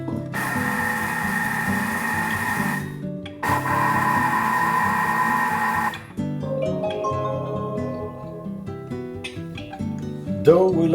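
A Thermomix kitchen machine mixes dough with eggs, a steady close motor whir with tonal hum that stops briefly, restarts, then shifts to a lower, uneven churning with clinks toward the end.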